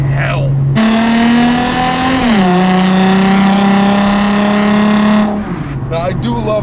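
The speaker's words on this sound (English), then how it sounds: "This is a non-branded exhaust put up by Miller Muffler in Louisville" A 2004 Nissan 350Z with an unbranded straight-pipe exhaust revs hard and close, a loud sustained engine note that climbs, dips slightly and holds for several seconds before dropping back to idle.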